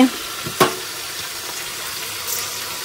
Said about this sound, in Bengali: এই যে দেখো সবজি ফ্রাই করতে বসিয়ে দিয়েছি